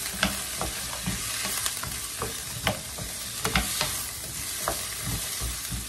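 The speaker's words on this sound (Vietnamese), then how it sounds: "Sau khi mình xào sơ nó vậy nè, cho nó thấm muối với đường rồi thì mình đổ nó vô." Cassava stir-fried with salt and sugar in a pan gives a steady close sizzle, with irregular scraping and clicking stirs throughout and no talk.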